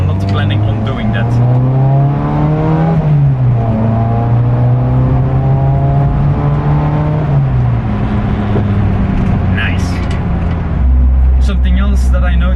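A Mk1 Golf on ST XA coilovers fills the cabin with a loud, continuous drone of engine and road noise, its pitch rising and falling with the revs as the car is driven.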